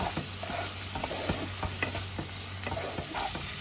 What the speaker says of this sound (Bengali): এবার হালকা করে মাছটা ভেজে নেব।